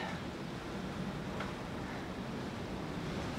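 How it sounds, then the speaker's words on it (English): Strong hurricane wind roars around a boat at sea, with waves and surf washing in a steady, dense broadband rush that fills the whole stretch without letup. "Wind is definitely picking up."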